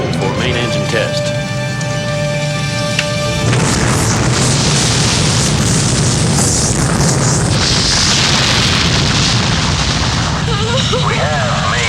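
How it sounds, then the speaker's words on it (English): A space shuttle main engine ignites and roars, a loud, steady, wideband rumble that swells after an early tonal hum and carries on without a break. "We have main engine start."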